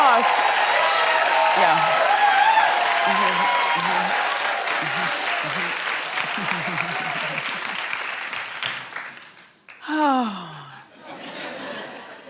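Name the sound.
studio audience clapping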